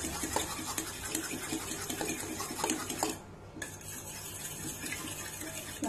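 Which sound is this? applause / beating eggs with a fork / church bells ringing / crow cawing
beating eggs with a fork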